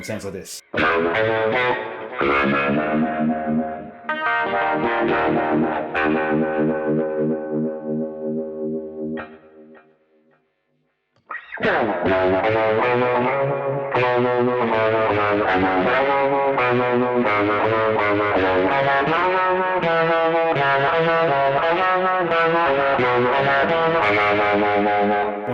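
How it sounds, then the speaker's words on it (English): Electric guitar on a single-coil bridge pickup, run through reverb and vintage echo on a Boss ES8-based pedalboard, plays loud chords and riffs, briefly stops near the middle, then comes back with long echoing repeats. A short spoken line comes first. "starts off with the reverb and the vintage echo on."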